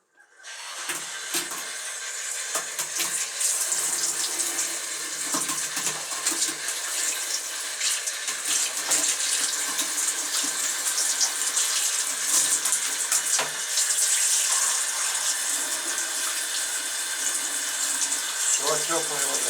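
Tap water runs steadily from a faucet while a pigeon is rinsed, a close, continuous splashing hiss with shifting spatter as the stream hits the bird and basin, and a person's voice briefly under it.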